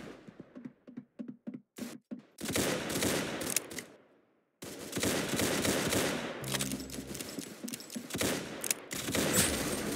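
Rapid gunshots in a combat setting, first a string of short sharp bursts, then sustained heavy volleys of gunfire after a brief silence, loud and close.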